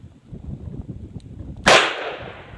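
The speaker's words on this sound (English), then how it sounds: "Today we'll be shooting the Ruger Match Champion." One sharp, loud shot cracks from a Ruger Match Champion revolver firing a Magtech 158-grain semi-jacketed soft point .38 Special round at an outdoor range, with a brief echoing tail after low background rumble.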